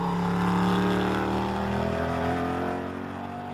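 A Volvo race car at Silverstone's Luffield corner gives a loud, droning engine rumble that holds steady and then eases off slightly as it moves away, with no speech.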